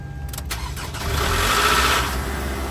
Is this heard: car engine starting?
yes